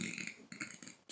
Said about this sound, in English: why did I burp on camera?